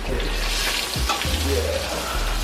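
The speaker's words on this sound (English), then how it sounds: "Put it to fry in my pan." Pork chops frying in a pan at home, with a steady, close sizzle of hot oil and a couple of soft knocks or stirring movements partway through.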